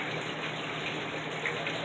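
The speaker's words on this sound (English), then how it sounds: "With all this water running like this." Water running steadily in a prison restroom with a condemned toilet, a continuous close hiss and splash with no breaks.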